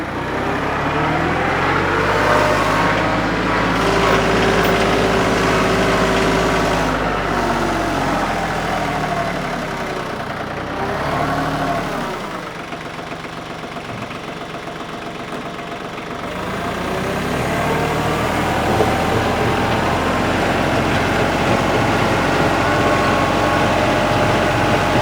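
A tractor engine runs steadily while the machine backs up with its bucket, a loud low rumble with a knocking idle that dips briefly midway before climbing back to full strength, no voices.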